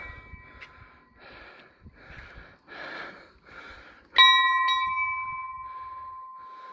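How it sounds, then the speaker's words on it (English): A church bell gives one loud, ringing strike that hangs and slowly fades, following quiet breathy sounds and footsteps. "Let's ring the bell."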